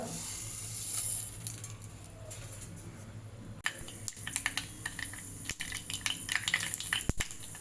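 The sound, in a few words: mustard seeds sputtering in hot oil in a pan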